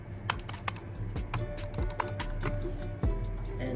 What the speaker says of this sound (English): here is the sounds comparison between these two mouse when you click on it